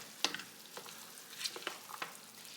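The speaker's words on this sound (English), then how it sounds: "I'm going to get that all mixed up in there really good." Chicken and rice being stirred in a hot pan with smoked chicken, giving a quiet sizzle with a few scrapes and clinks of the spoon against the pan, close and fairly faint, with no talking.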